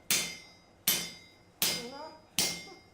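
A blacksmith's hammer strikes hot metal at a countryside forge in Prlekija, landing four loud, ringing blows at a slow, even pace, each one decaying before the next.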